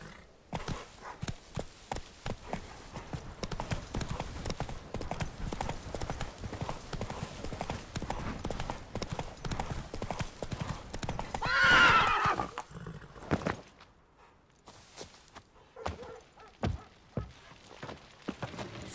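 The horse Roach in the video game Witcher 3 galloping with rapid dense hoofbeats, rising into a loud neigh partway through, then slowing to sparser hoof steps toward the end.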